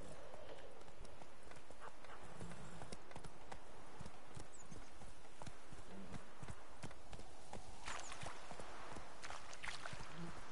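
Horse Roach walking in The Witcher 3: Wild Hunt, a steady, fairly close clip-clop of hooves continuing throughout, with a short snort or whinny and a voice talking in the background.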